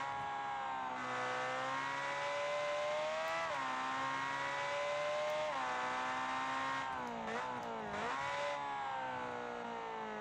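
A simulated race car engine from the BeamNG driving game drones loudly and steadily, revving up and down through gear changes with a few quick dips and surges near the end, and no talk over it.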